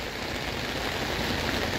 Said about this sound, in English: because it's raining too much.